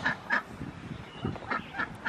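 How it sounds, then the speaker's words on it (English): A duck gives repeated short honking quacks at a steady pace, close and fairly clear outdoors, with faint rustling and background noise between the calls. "A duck."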